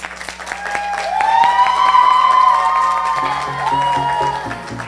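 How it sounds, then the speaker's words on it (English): International Women's Day audience applauding as a speaker comes to the podium, sustained clapping from a gathered crowd with some cheering, under background music and a tonal hum. "It is my joy to welcome Armel Montilus to the podium. Please give her a round of applause."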